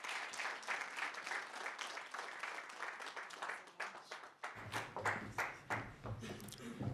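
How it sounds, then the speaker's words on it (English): An audience at a university innovation awards ceremony gives a round of applause, a scattered but continuous patter of claps. A voice and deeper sound come in over the second half. "A round of applause for her, please."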